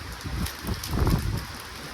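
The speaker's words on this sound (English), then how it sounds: "it's raining heavily over here" Heavy rain falls steadily outdoors as a dense, even wash of drops, with some gusty wind buffeting the microphone.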